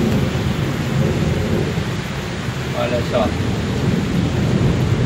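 Steady heavy rain roars throughout a storm in Porto Belo, Santa Catarina, Brazil, with a low rumble of thunder underneath and a voice speaking briefly in the middle, heard from a garage.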